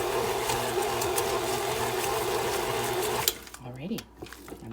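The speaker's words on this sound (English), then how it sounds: "I'm just going to do this quickly with my mixer" A handheld electric mixer whirs steadily through apple fritter batter, a loud continuous motor drone that cuts off abruptly near the end, leaving quieter clattering.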